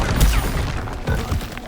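Spell combat in the Hogwarts Legacy video game, with an Expelliarmus cast amid a busy, dense clatter of magical impacts, thuds and crashes in quick succession.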